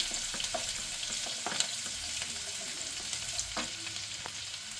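Ginger, green chili and garlic sauté in hot oil for beef pickle, giving a steady, soft hiss of frying with occasional light stirring clicks, close but fairly quiet.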